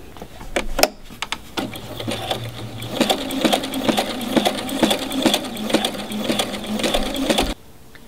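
A sewing machine runs basting stitches in a steady mechanical chatter for several seconds, with quick needle clicks and a hum. It starts after a few faint taps and stops abruptly near the end.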